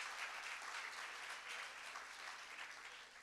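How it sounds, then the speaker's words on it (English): Steady audience applause for the mayor at a provincial government launch event, a dense continuous patter of many hands, fairly distant and even in level. "Let's give the mayor another round of applause."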